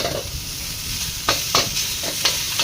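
Chicken noodles frying in a pan are stirred, the faint steady sizzle broken by several sharp scraping strokes of the utensil toward the end, with no voices.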